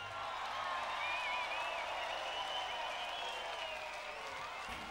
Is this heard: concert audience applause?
yes